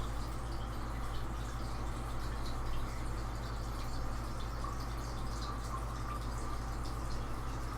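Tap water runs steadily into a glass vase aquascape, broken up by a hand in the stream, giving a continuous soft splashing wash over a low electrical hum.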